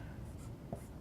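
Numbers are written by hand with a pen scratching close up on paper in a brief, soft, steady stroke with one small tap.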